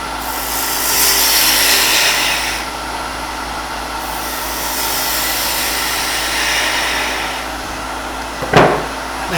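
On a wood lathe, a parting cut into a spinning wooden top makes a steady rasping, scraping hiss in two long passes, ending with a sharp knock as the piece comes free.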